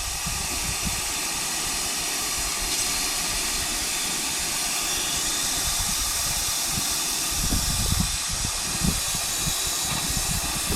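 Liquid propane hisses out of a tank's valve as a clear mist while the tank is being filled through a homemade transfer hose, a loud, continuous rushing hiss with slight surges as the tank is shaken.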